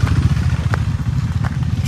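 A motorcycle engine chugs steadily during an offroad ride up to Bolumalai Fort, close and rough, with clattering knocks from the bike over uneven ground.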